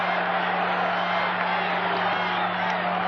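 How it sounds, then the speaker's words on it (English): Baseball crowd at a 1985 World Series game between the Cardinals and Royals chants "Charlie", a dense, steady roar of many voices filling the stadium without a break for the whole stretch. "Crowd chanting, Charlie,"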